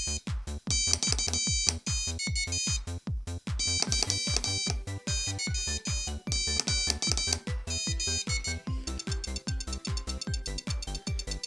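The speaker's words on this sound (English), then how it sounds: "it's telling you now how many you got right based on the amount of beeps" A Morse code trainer kit gives off rapid electronic beeps in quick rhythmic runs, bright and close, continuing steadily with brief pauses between groups.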